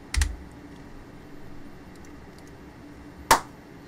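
A few isolated keystrokes on a computer keyboard, sharp close clicks at the start and near the end, separated by quiet room tone.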